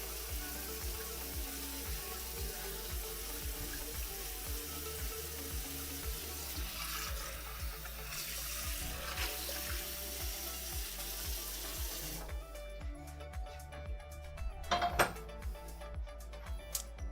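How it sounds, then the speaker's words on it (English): Tap water runs steadily into a pot in a home kitchen being filled for boiling pasta, a continuous close splashing rush that shifts in tone partway through as the pot fills. "And get water going here next for our boiling of our pasta."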